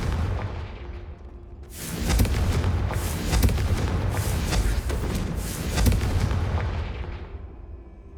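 A Confringo spell blast in Hogwarts Legacy erupts as a loud booming burst, followed by several seconds of rumbling, crackling impact noise that slowly fades, with no talk over it.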